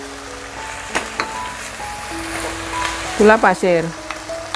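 Spices, ground coriander, salt and broth powder stir-fried in a pan with lime leaves, a steady sizzle with scattered spatula scrapes, ending in a short burst of voiced talk.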